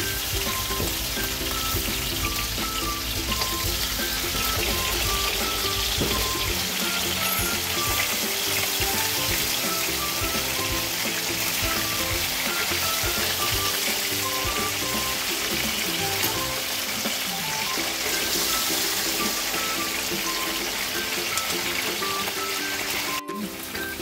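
Steady, loud sizzling of oil heating in a wok over a small flame for butter creamy mushroom chicken, a dense continuous crackle with faint stirring and no voices.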